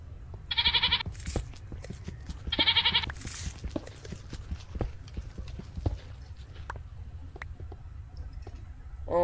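A goat in the Minecraft video game bleats twice, two short bright bleats a couple of seconds apart, over a steady patter of clicking, clopping footstep-like sounds.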